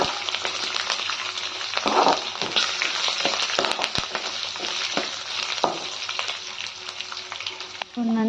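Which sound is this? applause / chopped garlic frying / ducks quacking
chopped garlic frying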